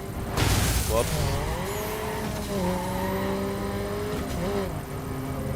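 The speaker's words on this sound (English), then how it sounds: "now I can drive a drag car in TC1" Drag car in the racing video game The Crew, engine droning loudly and steadily with rising and falling pitch through shifts, a brief tire squeal near the start, with a voice talking over it.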